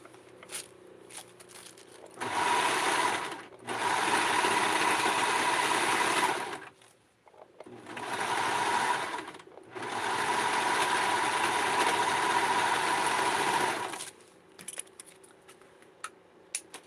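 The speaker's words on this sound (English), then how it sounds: "my serger is going to be doing its little magic" Serger stitching a small candy corn doll dress, running in two long bursts of steady rapid mechanical whirring, each briefly paused, with quieter handling noise between and after the runs.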